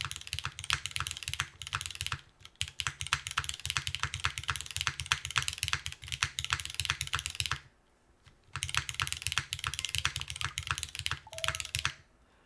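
Typing on a Neo80 CU mechanical keyboard, dense rapid runs of deep, poppy keystrokes at close range with short pauses, including a longer gap before a second fast burst, no speech.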